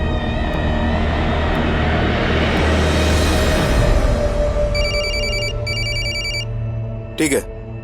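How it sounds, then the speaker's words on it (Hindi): A telephone rings in a tense crime drama scene, its repeated electronic bell bursts sounding clearly in the later seconds over a dense background score and ambient noise, with a short sharp hit near the end. "सर, चेतन का फोन था, उसका पता चल गया।"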